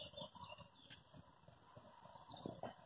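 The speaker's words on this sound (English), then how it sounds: "There are some birds that are singing" Faint bird chirps and calls over quiet outdoor background noise, scattered and distant.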